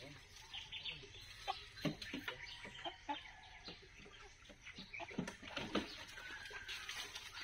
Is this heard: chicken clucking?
yes